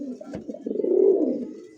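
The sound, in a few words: pigeon cooing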